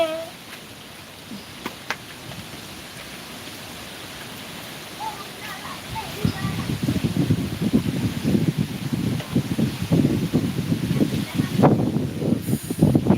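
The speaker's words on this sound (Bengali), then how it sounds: "প্রচুর পরিমাণে ঝড় উঠেছে" Strong storm wind from Cyclone Remal roars in a broadband rush that starts faint and swells loudly around the midpoint, then keeps gusting steadily to the end, with no talking.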